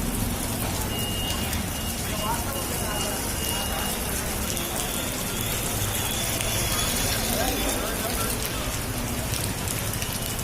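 Steady rain pours down in Kadapa, India, a dense continuous hiss of drops hitting surfaces, loud and unbroken throughout.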